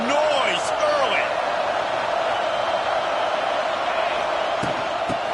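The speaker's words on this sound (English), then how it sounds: "This crowd bringing the energy and noise early." Football stadium crowd roaring early in a game, a broad sustained wall of cheering and noise with a few whoops rising above it, loud and continuous throughout.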